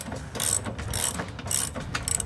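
A ratchet wrench loosens bolts on the rear bumper of a 2009-2018 RAM 1500 pickup, sounding as close, loud bursts of ratcheting clicks in about four quick pulls with no speech.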